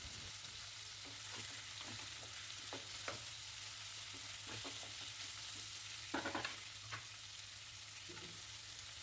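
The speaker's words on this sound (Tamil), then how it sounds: "தக்காளி சேர்த்து நல்லா வதக்கி விட்டுருங்க" Onions and tomatoes with curry leaves sizzle steadily in a pan, a constant frying hiss broken by occasional scrapes and taps of a stirring spoon, close and without voices.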